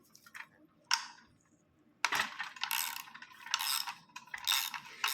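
A wrench breaks a tapered pipe plug free from a carburetor float bowl, giving a few scattered metallic clicks and then a run of gritty ratcheting, scraping bursts, close up and without speech.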